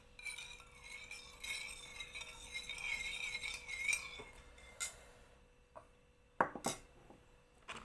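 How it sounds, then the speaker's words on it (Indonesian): A salt solution of sodium chloride and water is stirred in a container, giving light clinks and scrapes of a utensil against the vessel, with a few sharper knocks near the end; close and fairly quiet. "Lalu kita aduk saja."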